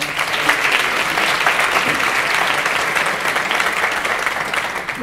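Continuous audience applause at a regional volunteering congress, a full, even wash of many hands clapping, loud throughout.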